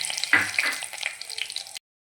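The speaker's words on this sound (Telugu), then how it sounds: "పచ్చిమిర్చి వేగినాయిగా ఫ్రెండ్స్" Green chillies and tempering seeds crackle and sizzle in hot oil, with a sudden burst of spitting near the start that settles into busy frying before cutting off abruptly.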